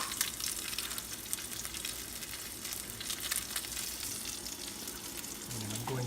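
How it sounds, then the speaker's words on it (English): Salmon sears over a fairly high flame in a hot pan, giving a steady, fairly quiet sizzle and crackle that lasts throughout with a faint clink near the end. "we're trying to just sear that a little bit"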